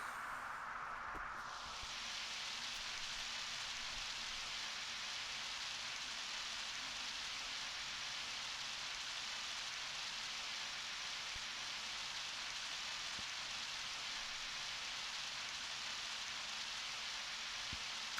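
Steady rain from the video game Undertale, a dense even hiss that runs unbroken and fairly loud throughout, with no voices over it.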